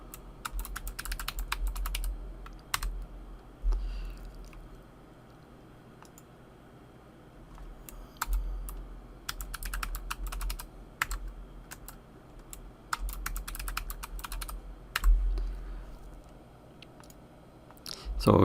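A password typed on a computer keyboard, with quick clusters of close, crisp key clicks broken by pauses over a low steady hum, no voices.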